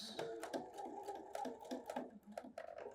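A sewing machine runs a straight 5/8-inch seam on a Closet Core Sigourney garment, stitching in short start-stop bursts with a steady mechanical whir, close and moderately loud.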